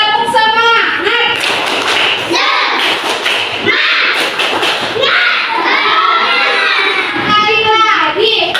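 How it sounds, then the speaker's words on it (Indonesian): An Indonesian classroom of children does a rhythmic clapping chant with their teacher, loud and close, with patterned claps and thumps mixed with the children's chanting voices throughout. "Tepuk semangat"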